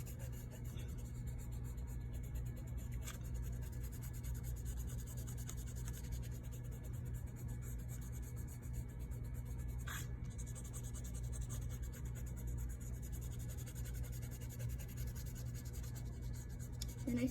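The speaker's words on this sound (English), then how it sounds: "I'm just lightly erasing it." An eraser is rubbed lightly over graphite pencil marks on watercolor paper, a soft, faint, continuous rubbing and scratching texture under a steady room hum.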